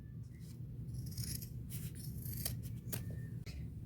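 Scissors cutting through an old pair of denim jeans, a series of close, crisp snipping and rasping strokes repeating over a few seconds with no talk.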